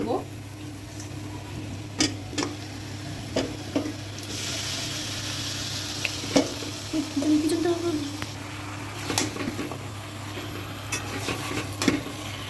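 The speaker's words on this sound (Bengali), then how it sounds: "এখন মাংসটা ভালো মতো কষাবো" Meat frying in spice paste in a home kitchen, a soft continuous sizzle with scattered clinks and scrapes of a spoon stirring the pot; a voice talks intermittently over it.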